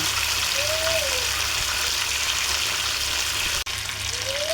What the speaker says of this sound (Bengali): ফ্রাই প্যানের কড়াইতে চিকেন দিয়ে দিলাম। চিকেনটাকে হালকা ভেজে নেব।